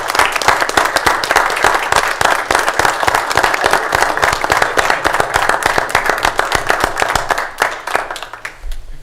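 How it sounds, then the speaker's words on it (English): Sustained, dense applause from a county commissioners meeting audience honoring 25 years of service, steady and fairly loud for nearly nine seconds before tapering off. "How about a round of applause for 25 years of service?"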